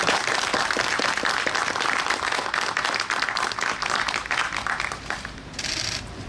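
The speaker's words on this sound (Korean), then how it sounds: "이 기쁜 마음을 큰 박수로 한번 표시를 해주셨으면 좋겠습니다" A crowd at the opening ceremony of the Yi Bong-chang memorial hall in Yongsan breaks into loud, dense applause that holds steady and then thins out near the end.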